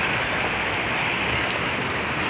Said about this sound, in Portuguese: E a chuva tá bonita,